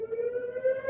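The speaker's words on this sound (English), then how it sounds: "Sirens are getting pretty loud." Sirens wail outside, heard from a back patio in San Antonio as a steady, loud tonal whine with a slight upward drift in pitch.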